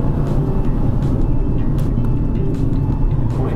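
A Mercedes-Benz C300 Turbo engine runs on a downhill mountain-road drive, making a steady, loud, close drone with road and cabin noise throughout.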